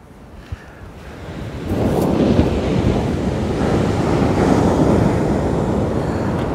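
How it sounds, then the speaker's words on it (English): Ocean waves break on a beach at Kalbarri, Western Australia, a broad roaring surf that swells in after a quieter start and then holds steady and loud, mixed with wind noise. "as these waves are coming up, they're coming up a lot cleaner"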